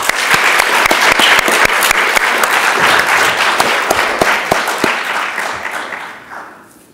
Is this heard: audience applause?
yes